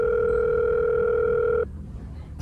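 A steady electronic telephone ringing tone holds loud and unbroken for about a second and a half, then cuts off abruptly, leaving only quiet room background.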